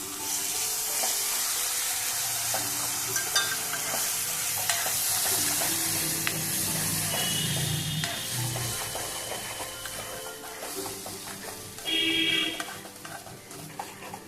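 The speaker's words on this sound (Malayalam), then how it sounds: "തക്കാളിയുടെ പച്ച ചുവ മാറുന്നവരെ ഇളക്കി കൊടുക്കാം" Ground tomato fries in a pan for a Chettinad egg kuzhambu, a dense continuous sizzle and hiss under repeated scraping strokes of a spoon, with a louder burst of spitting near the end and no talk.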